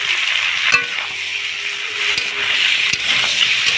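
Crab and pointed gourd curry with Kashmiri chili and chili powder stir-fries in a village kitchen, a loud, steady frying hiss with a few isolated sharp utensil knocks and no speech.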